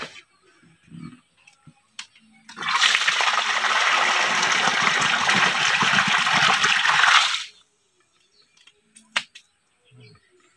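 Water rushes loudly out of the drain of a catfish pond for about five seconds, a steady gushing roar starting and stopping abruptly, with faint clicks and a few quiet sounds before and after.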